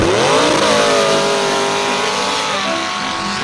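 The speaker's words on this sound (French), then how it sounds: "Des dragsters dans le sable." Dragster engines scream at full throttle during a sand drag race, a loud sustained roar that climbs in pitch and holds steady before easing slightly at the end.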